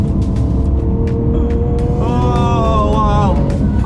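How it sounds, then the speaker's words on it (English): A Lamborghini Aventador S, a V12 supercar, rumbles loud and close while its exhaust crackles and pops on overrun as the throttle lifts, with a rising engine tone near the end. "crackle and pop on overrun, almost like a Huracan, when you let off of the gas"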